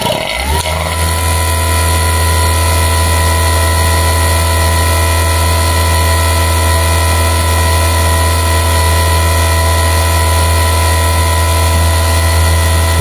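A vacuum pump runs during calibration of a WK-VG88 digital vacuum meter, a loud, steady mechanical drone with a constant hum that starts abruptly and holds unchanged throughout, with no talk.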